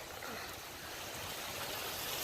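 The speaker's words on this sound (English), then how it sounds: "This is a nice little creek that runs down the side of Moody Park." A small creek running beside a park gives a steady, fairly quiet rushing wash of water with no voices.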